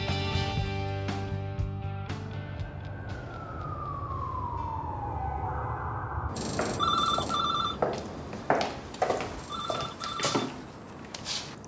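A telephone rings in a Russian melodrama scene, with bright repeated electronic ring bursts arriving in short pulses over a dim room background after an earlier sweeping tone.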